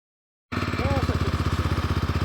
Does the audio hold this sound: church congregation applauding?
no